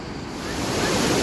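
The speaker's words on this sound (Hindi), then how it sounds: "एक झरना दिख गया मेरे रास्ते में, वही हम लोग रुक गए और बहुत ही सुंदर व्यू है।" A mountain waterfall near Gangtok, Sikkim roars as a steady, dense rushing wash, close and loud, swelling slightly over the short stretch with no voices.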